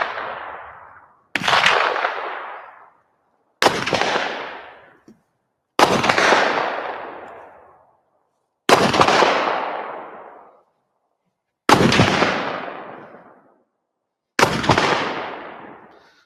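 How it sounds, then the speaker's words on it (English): Seven separate loud gunshots from different World War I firearms, each a sharp crack followed by a long fading echo, spaced a couple of seconds apart with silence between them. "These are World War I firearm recordings we're going to hear. You're going to hear the completely different guns"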